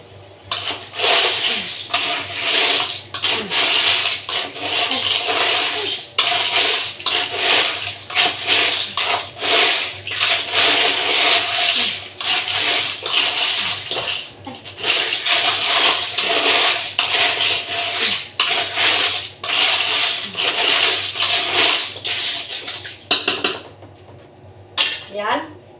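Spoon or ladle scraping and clinking against a cooking pot while stirring a clam dish, steady rapid metallic scraping close up, with a person talking intermittently over it.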